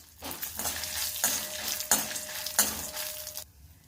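Chana dal, urad dal and dried red chillies fry in hot oil with a steady loud sizzle, broken by several clattering stirs of a spoon against the pan before the sound cuts off.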